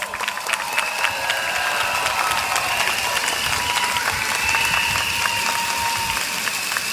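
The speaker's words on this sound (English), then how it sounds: "A warm round of applause" Dense, steady applause from a large crowd at an evening political rally in a stadium, continuous and fairly loud throughout with a few faint tonal sounds and whistles mixed in.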